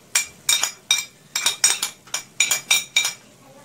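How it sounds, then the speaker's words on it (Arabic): A utensil scrapes and knocks against a pan while onions are stirred with chicken, about ten distinct rhythmic clinks, close and clear, with no talking. "بقلب بقى البصل مع الفراخ كده"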